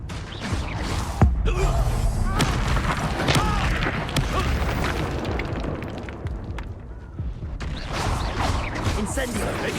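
Expulso and Incendio spell blasts in Hogwarts Legacy, booming bursts and crackling fiery whooshes layered in a loud, busy combat din, with a sharp explosive hit early on.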